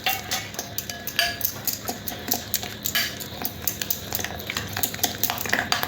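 Spices and strained yogurt are stirred together in a bowl for chicken kebab marinade, producing a quick run of close, rhythmic clinks and knocks of a utensil against the bowl.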